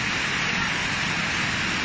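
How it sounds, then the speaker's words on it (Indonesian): Heavy rain pours down during a flash flood in Batu, East Java, a loud, dense, continuous hiss that stays even throughout. "banjir bandang hujan deras di Kota Batu Bulukerto, rumah hanyut."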